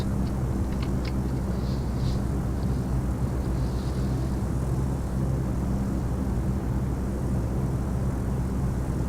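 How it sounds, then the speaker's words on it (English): A propeller airplane engine drones steadily in flight in the Dovetail Flight School simulator on a Lappeenranta to Mikkeli route, a loud continuous low hum running alone throughout without talk. "enjoying the airplane sounds whilst this plane flies"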